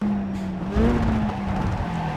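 A rally car in the Richard Burns Rally video game, with a steady engine drone that climbs in pitch as it labours in a low gear, loud and continuous.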